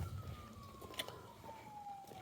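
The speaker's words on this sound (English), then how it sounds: "I hear sirens." A faint siren wails far off in Liverpool, Nova Scotia, a thin steady tone gliding slowly downward beneath low outdoor rumble and background noise.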